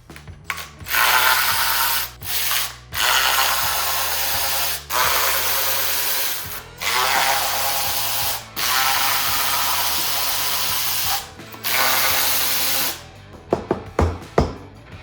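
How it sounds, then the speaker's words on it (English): A power tool works the valve cover bolts on a bus engine fitted to an International/Dresser dozer, firing in about eight loud, sustained bursts with short pauses, then a quick run of sharp clicks. "let's just pull this valve cover off together so we can get a little bit of a closer look"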